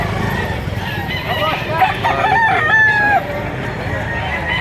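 Rooster crowing at the Lipa auction market in Batangas, several rising and falling crows over a busy crowd, with people talking throughout.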